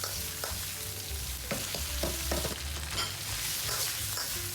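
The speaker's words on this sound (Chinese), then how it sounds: "好，大火翻炒，让这个包菜吸收这些味道。" Cabbage stir-fried over high heat in a wok, a constant close sizzle broken by irregular tossing scrapes and clatters of the spatula, with no speech.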